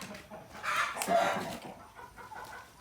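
Pet turkeys on a homestead give a run of clucking, gobbling calls, close and moderately loud, rising in the middle then tapering off.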